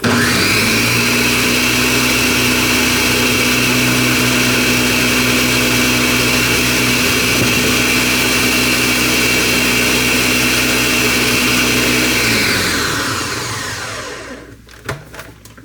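An electric mixer whirs steadily while blending egg and oil into homemade mayonnaise, a loud constant drone that holds for about twelve seconds, then winds down and stops, with faint clatter afterward.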